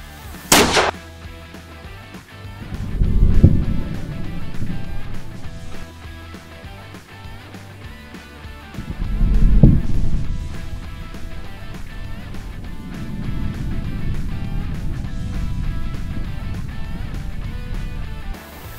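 Muzzleloader shot and Tannerite explosion at an outdoor shooting test: a sharp crack near the start, then two heavy booming blasts around four and ten seconds, followed by a long rumbling, echoing tail.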